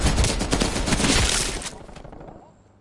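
Rapid automatic gunfire from the video game Call of Duty Black Ops Cold War in live online multiplayer, loud and dense for about two seconds before tapering off into quieter rattling.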